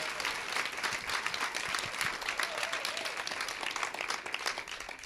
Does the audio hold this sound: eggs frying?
no